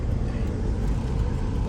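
Steady broadband road noise from inside a moving car on a drive to a grocery store in Jeddah, a continuous engine and tire rumble with no breaks.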